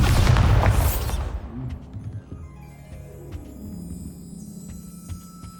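A Bombarda explosion spell from Hogwarts Legacy goes off with a loud, heavy boom right at the start, then its deep rumble fades out over several seconds under a faint low hum.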